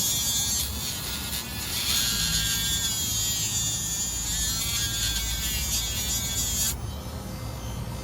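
A small rotary tool grinds plastic on an RC Jeep servo mount, giving a steady high-pitched buzzing whine that holds close and even, then shifts to a lower hum near the end.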